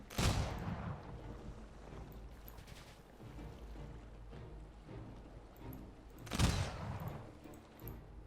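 Two heavy mortar blasts in a strategy video game set in the industrial era, booming several seconds apart over a low rumbling battlefield bed with scattered smaller gunfire.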